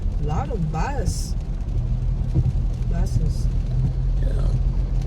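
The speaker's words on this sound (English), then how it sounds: "A lot of buses." Low, rumbling traffic with buses and cars passing on a rainy road in the Philippines, a continuous engine drone under intermittent voices.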